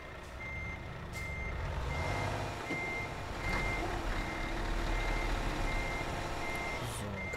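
A reversing alarm beeps steadily on a truck in a truck-driving video game, a repeating electronic tone over a continuous loud engine rumble throughout.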